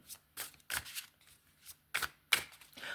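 Quick bursts of tarot cards being riffled and flicked, several short shuffles in a row with brief pauses between them, close and crisp.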